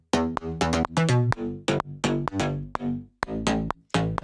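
Synthesized slap house bass line with a bouncy rhythm: short, punchy plucked notes with bright attacks, some stabs stopping abruptly and others gliding in pitch, playing alone without drums.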